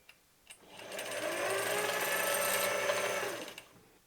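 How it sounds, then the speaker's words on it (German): Pfaff 260/360 sewing machine winding a bobbin: a steady whirring motor hum that spins up, holds for about two seconds and winds down, close and alone. "Wir halten unseren Faden fest und wir spulen auf."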